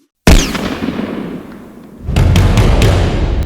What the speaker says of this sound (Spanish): Un disparo en una zona solitaria de Texas.